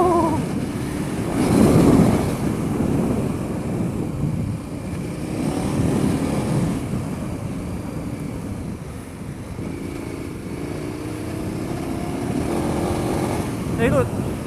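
A KTM 1090 Adventure R motorcycle drones steadily under heavy wind roar as the rider opens the throttle on a road, with the engine note rising and surging in bursts.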